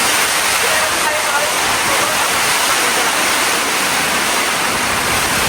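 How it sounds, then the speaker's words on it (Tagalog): A loud, dense roar of typhoon rain and wind blasting steadily at a farm, saturating everything with hissing noise throughout. "Grabe, binagyo po kami rito. Grabe, ang lakas ng hangin."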